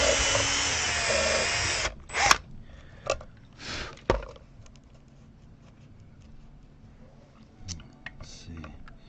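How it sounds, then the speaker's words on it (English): An electric drill with a lengthened bit bores into a Squier Stratocaster Texas Special guitar body, a loud steady whine for about two seconds that stops abruptly, followed by brief bursts, clicks and handling noises. "I need to make my drill bit a little bit longer."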